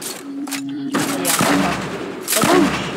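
Gunfire in Fortnite's high-explosives battle royale mode: several sharp bursts of shots and booms in quick succession over game sounds, close and loud, with no talk over them.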